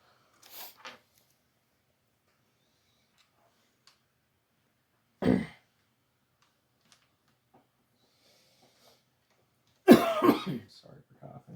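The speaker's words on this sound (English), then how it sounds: "Sorry for coughing." Several separate coughs from one person indoors while a gaming PC is being built, with a short one near the start, a louder burst midway and a harsher, longer fit at the end, each separated by quiet.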